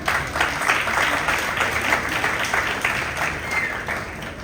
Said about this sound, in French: je vous prie d'applaudir les champions s'il vous plaît